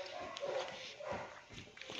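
Dogs bark and yip in a faint, scattered series at some distance, with short whimpering cries mixed between the barks.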